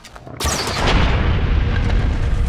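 A sudden heavy explosion bursts in after a short pause, followed by a loud rumbling roar that lingers and slowly fades.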